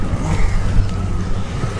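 A Jeep Wagoneer with a worn Torqueflight 727 automatic transmission, its engine steadily revving in drive, a loud, continuous low rumble close by with no talk.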